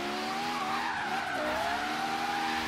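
Lexus LFA in Forza Horizon 3 sliding sideways with a sustained tire squeal over a steady, high-revving engine whine whose pitch sweeps up and down, loud and close throughout.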